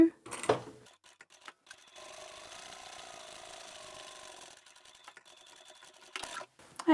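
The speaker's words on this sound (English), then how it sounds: "I'm going to sew straight over that marked line." A sewing machine runs steadily for about two and a half seconds, stitching along a marked line on fabric for a foldable shopping bag, bracketed by brief clicks and handling noises before and after.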